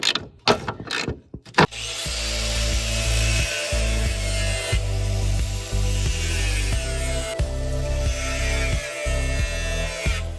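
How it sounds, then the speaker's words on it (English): An access hole is cut into a Pontiac Fiero engine cradle: a few sharp clanks, then a loud, sustained mechanical cutting whine whose pitch steps up and down, close by and without talk. "Just cut an access hole in here."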